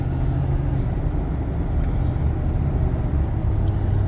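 A Kirby truck speeds down a road with a steady, loud engine drone and tire roar, an even, unbroken rumble heard from inside the vehicle.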